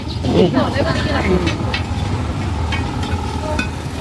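Shellfish fry at a street food stall, giving a steady bubbling sizzle with occasional scraping stirs, while nearby voices chatter over the frying.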